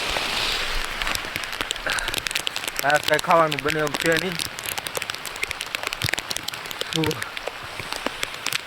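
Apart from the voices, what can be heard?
rain falling at campsite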